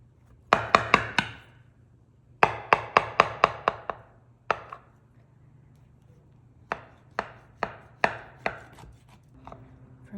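A knife cuts through a raspberry fritter breakfast danish in three bursts of sharp, rapid taps against a board, close and crisp, with quiet gaps between the bursts.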